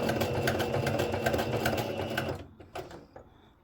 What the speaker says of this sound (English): So let's just go along and sew our first triangle.